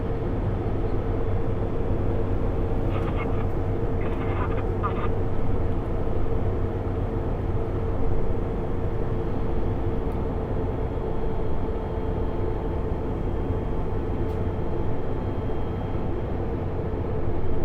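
Heavy haul truck running overweight after a downshift, a steady loud low engine drone with a continuous rumble throughout, alone without talk, on a road beside open-pit mining slag.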